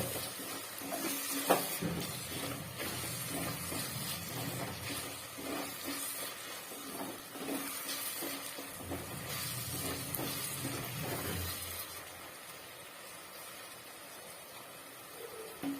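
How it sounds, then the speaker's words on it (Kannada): Gongura chicken fries in a pan with a quiet, continuous sizzle, and soft stirring scrapes come and go throughout. "ಈಗ ಒಂಚೂರು ಚೆನ್ನಾಗಿ ಫ್ರೈ ಆಗಬೇಕು"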